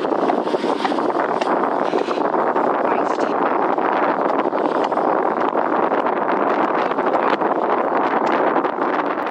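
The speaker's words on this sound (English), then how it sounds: "So it is extremely windy up this hill, particularly." Strong wind buffets the microphone on an exposed hilltop, a loud continuous roar and rumble with gusty flutter for the whole stretch.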